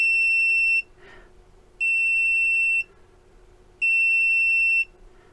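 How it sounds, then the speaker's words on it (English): A Sunlu filament jointer sounds three long, loud, shrill electronic beeps, each about a second long and evenly spaced, with a soft click between the first two. "You wait for the beep,"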